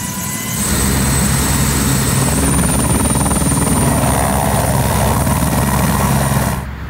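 A helicopter filming the 24 Hours of Le Mans race roars loud and close, a steady dense rotor and engine drone lasting several seconds before cutting off abruptly.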